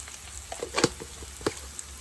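Cumin powder and spices frying in a pan, giving a soft, steady sizzle with a few faint scraping and clicking sounds, close and quiet, with no voices.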